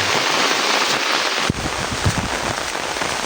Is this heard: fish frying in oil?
no